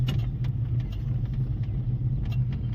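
A car engine hums steadily as a learner driver speeds up and shifts into second gear during a driving lesson, with a low, constant rumble close by.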